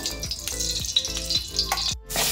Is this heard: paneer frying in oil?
yes